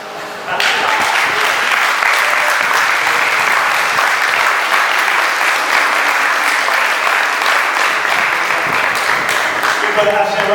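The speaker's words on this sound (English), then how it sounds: "Give a round of applause, please." Loud, dense applause from a convention crowd starts abruptly and keeps up evenly for about ten seconds, with scattered voices within the clapping.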